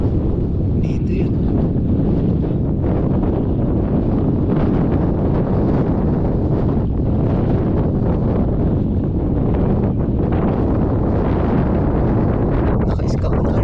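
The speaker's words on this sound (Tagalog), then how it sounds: "Ang lakas po ng hangin." Strong wind buffets the microphone at sea during a night fishing trip, a loud continuous roar and rumble running throughout, with faint voices nearby.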